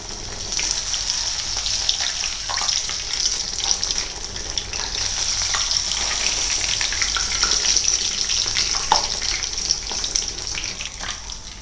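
Fish frying in hot oil with fish sauce, a loud, steady, crackling sizzle that carries on unbroken, spattering up close with no voices over it.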